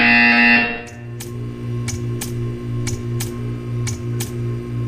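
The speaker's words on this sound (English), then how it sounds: "When you hear the buzzer, stare at the art." A steady electronic tone cuts off, followed by a regular series of sharp clicks or ticks, about one per half second, over a low hum, in Portal 2.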